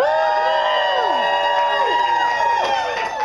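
An audience at a Renaissance faire cheers and whoops together, many voices rising and falling in long, sliding shouts that keep going across the whole stretch.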